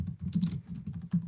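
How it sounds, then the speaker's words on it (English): Heavy, rapid typing on a computer keyboard, with close, loud clacking keystrokes arriving in uneven bursts and short pauses. "Heavy typing."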